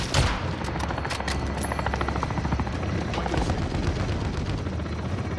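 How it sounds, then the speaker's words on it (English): Helicopter rotor drone of a chopper gunner killstreak in Call of Duty: Modern Warfare, a steady loud whir running throughout beneath dense bursts of gunfire and explosions from the match. "Oh, I got a chopper gunner."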